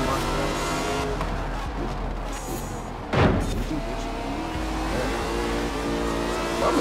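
Race car engines roar continuously in Forza Horizon 4, with a loud car rushing close by midway through the drone.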